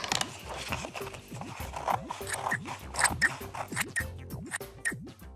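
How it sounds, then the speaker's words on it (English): Scissors snip through a strip of coloured paper in a craft demonstration, giving a steady series of crisp cuts under a bouncy music track, with no speech. "What we're going to do now is cut a strip across here at an angle like this."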